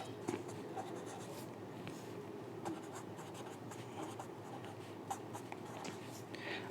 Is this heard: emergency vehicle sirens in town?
no